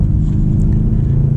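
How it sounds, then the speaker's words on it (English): Mercedes C63 AMG Convertible with a turbocharged V8, a deep, loud, steady engine rumble heard close up with no voices. "when you have an engine that sounds like this, you might not actually care"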